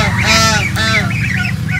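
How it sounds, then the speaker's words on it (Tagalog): A goose honks loudly and repeatedly just after stepping off its nest, with harmonic calls in close succession over a steady low background hum. "Ito po ang attitude ng gansa pag lumabas siya sa kanyang nest."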